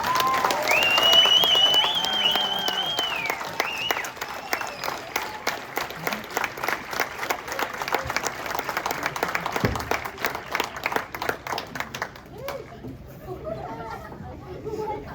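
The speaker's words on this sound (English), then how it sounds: "Give a round of applause." Audience applause from a community gathering, with clapping and crowd chatter blended throughout, fairly close and steady, thinning out toward the end while voices continue.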